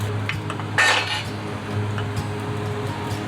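Gai lan drops into a pot holding a little water, a brief clatter and clink of metal and stems near the start, followed by quieter kitchen rustling with no talk.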